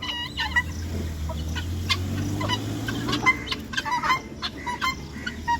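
Chickens, a rooster and hens, cluck and squawk in bursts close by on a farm, with a low rooster call early on and scattered sharp clucks throughout.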